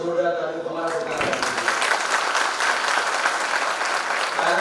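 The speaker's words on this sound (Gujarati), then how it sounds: "એક વખત જોરદાર તાળીઓ તમારા બધા," Parents in a school hall at an annual function applaud the young children's stage performance, a dense burst of clapping that swells after a brief moment of speech and holds steady to the end.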